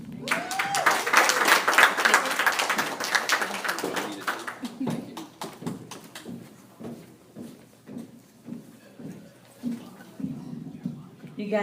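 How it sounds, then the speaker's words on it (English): An audience at a workshop event claps, starting as a dense burst and then thinning into scattered, rhythmic claps that fade and flare. A voice speaks briefly near the start. "You guys give Win another round of applause."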